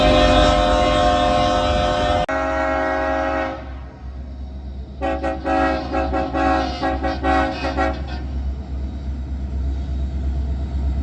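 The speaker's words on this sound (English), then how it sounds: "the friendly crew gives us a little good morning horn salute" An Arkansas & Missouri Railroad ALCO freight locomotive sounds a loud, close horn salute in the town of Johnson, with a long blast, a short pause, then another blast over a low engine rumble.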